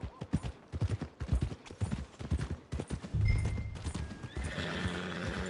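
A horse in a video game clip-clops along with close, loud hoofbeats and lets out a whinny, the hooves settling into a steady rhythm near the end.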